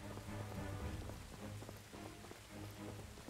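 Steady rain patters in the fantasy online game Tarisland, a quiet, dense and even hiss of drops falling on surfaces, heard alone.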